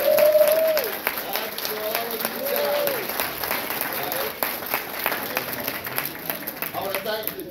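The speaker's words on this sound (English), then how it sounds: "Give them a round of applause." Steady crowd applause fills the clip, a dense wash of many hands clapping, with a few voices and cheers rising over it.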